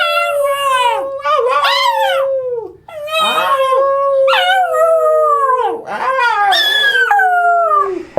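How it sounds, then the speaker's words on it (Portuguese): A dog howls repeatedly in long, wavering, rising and falling notes, loud and close, with short breaks between the howls. "Se você uivar com o seu cachorrinho, provavelmente ele vai relembrar essa ancestralidade e vai uivar junto com você."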